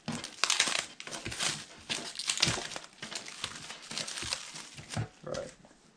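Plastic cling film torn by hand, a run of close crinkling, stretching and crackling bursts with brief rips, steady through the moment and with no voices.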